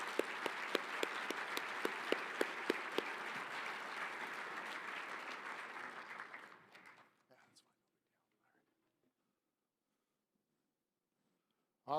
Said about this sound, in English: Let's give a resounding round of applause to our Mayor